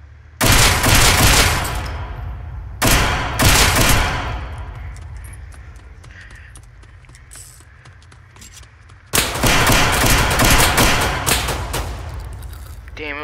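Rapid automatic gunfire in the video game South London 2 rattles loudly in three long bursts, with quieter stretches between them where a voice talks.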